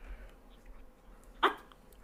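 A single short, sharp sneeze bursts out once amid quiet background noise.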